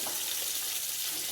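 Shrimp sizzle in a hot frying pan as they brown, a steady, bright crackling hiss with no talk over it.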